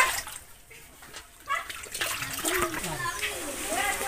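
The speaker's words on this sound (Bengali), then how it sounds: "এই যে ধোয়া হচ্ছে এইখানে" Water splashes and runs as meat is washed at a butcher's shop, a steady wet rush with a close spatter in the second half and people talking around it.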